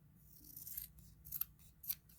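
Scissors snipping through a cardboard dangle, a few soft, close cuts in a quiet room with no talking.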